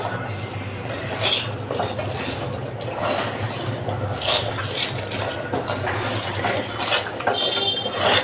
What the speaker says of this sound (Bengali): স্বাদ মতো লবণ এবারে মেখে নেব মাছগুলো